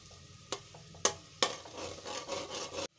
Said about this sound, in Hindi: अब इसके अंदर हम प्याज ऐड कर देंगे, इनको फ्राई कर लेंगे